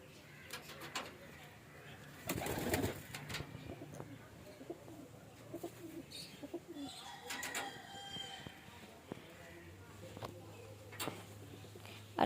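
Pigeons kept at a home in a garden setting coo softly and intermittently over a steady background, with brief louder rustling bursts and some faint voices nearby.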